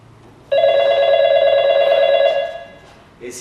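A telephone bell rings in one steady, loud, continuous trill for about two seconds and then cuts off, followed by a faint sound after it.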